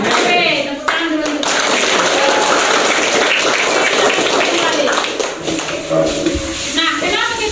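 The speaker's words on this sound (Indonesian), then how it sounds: "Oke, tepuk tangan dulu." A classroom of pupils claps hands together in a loud, dense, sustained burst, with children's voices calling out over and between the claps.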